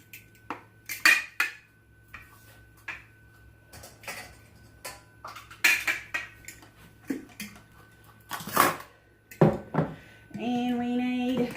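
Metal pot and utensils clink and tap in scattered, irregular knocks while butter, sugar and golden syrup melt for a chocolate crunch bake, ending in a steadier rattling scrape; close and fairly quiet, with no talk.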